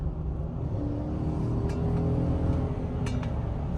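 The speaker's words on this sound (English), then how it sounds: "I figured that I'd throw a little clip in of acceleration as well." A 2018 Chevrolet Silverado pickup with the 5.3 engine and an aftermarket tuner accelerates, its exhaust giving a steady low rumble that builds slightly, heard from nearby with no talking.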